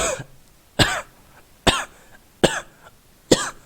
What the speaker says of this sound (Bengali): পুরো দশটা মিনিট খক খক করে কাশির প্রতিযোগিতা শুরু হয়ে গেল